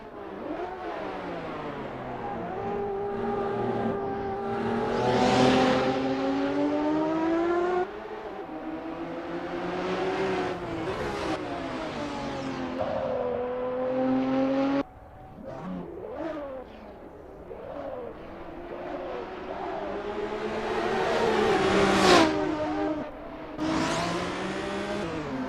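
Simulated race cars circling the Nurburgring GP during warm-up, engines revving and bouncing through gear changes with cars passing near and far, loud and continuous, no one talking.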